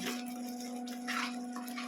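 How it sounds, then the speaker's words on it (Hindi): Water poured into a pan of cauliflower kofta curry gravy, a soft continuous pouring wash over a steady low hum, with no talking. "2 मिनट और अच्छे से भुनने के बाद हम इसमें उतना पानी डालेंगे जितनी ग्रेवी हमें चाहिए"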